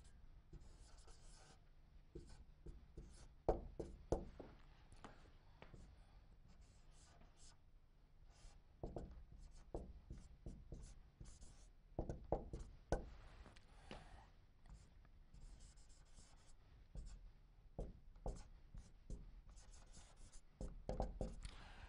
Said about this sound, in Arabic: هنا كده هكتب لك الكلمات